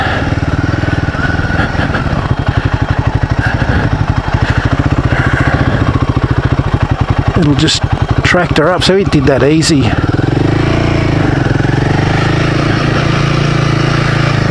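A Royal Enfield Himalayan 450 adventure motorcycle engine chugs steadily at low revs climbing uphill while someone talks over it, with a brief burst of mechanical rattling midway.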